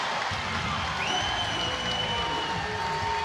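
Crowd at a 2024 women's college volleyball match between Texas and Texas A&M, cheering and applauding on their feet after an ace serve: a broad, sustained roar of clapping and whoops, moderately distant, with some faint voices beneath.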